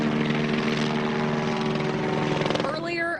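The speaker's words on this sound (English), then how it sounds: "a chopper flying overhead" A helicopter flies overhead during a police response at a Cape Coral plaza, its steady rotor and engine drone loud and continuous throughout, with a voice talking over it.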